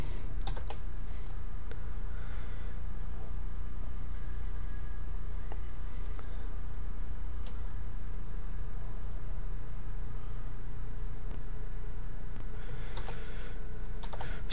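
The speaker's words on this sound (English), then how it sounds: "I am going to type some code really fast" Fast typing of code on a computer keyboard, a steady stream of light close key clicks over a constant low hum, running the whole time without speech.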